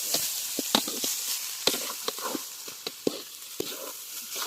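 Rice stir-fried in a pan for egg fried rice in a village kitchen in Kundapura, with soft sizzling under irregular scraping clicks of a spatula against the pan, close and fairly quiet.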